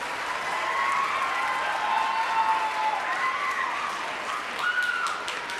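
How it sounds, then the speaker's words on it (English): Applause at a school orchestra night, a loud, sustained crowd of hands clapping with a few whistles or cheers rising over it, continuous for several seconds. "So can we clap for our last year's middle school?"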